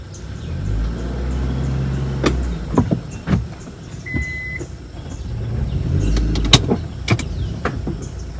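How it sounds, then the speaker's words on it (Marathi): A car reverses slowly on a village road, its low engine rumble steady throughout, with a few sharp clicks and knocks and a brief electronic beep partway through. "गाडी मागे घेतोय"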